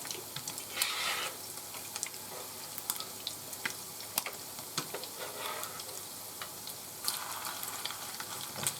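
Salmon patties fry in a warped frying pan, giving a steady soft sizzle with scattered sharp pops and crackles, plus a few louder bursts of spattering and faint clinks.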